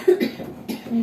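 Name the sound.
cough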